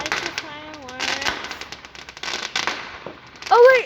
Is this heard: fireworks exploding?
yes